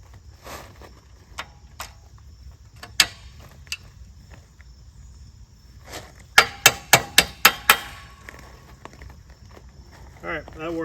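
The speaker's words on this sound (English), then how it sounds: "We're going to tap this screwdriver through, and hopefully all the washers will stay in place." A screwdriver is tapped through a stack of washers while working on a Yamaha BW 80: a quick run of six sharp metallic taps in steady rhythm, close and clear, after a few scattered knocks.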